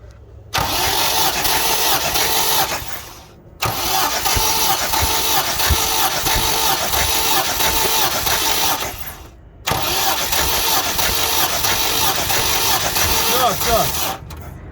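A Gazelle 4216 fuel-injected engine cranks and runs in three long bursts separated by brief silences, a loud, rough mechanical roar captured close up.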